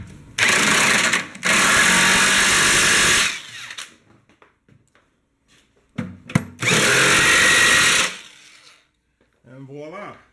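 Power tool driving large bolts on Nissan Pathfinder R50 skidplates, two long loud whirring runs separated by a short pause, with a brief voice at the end.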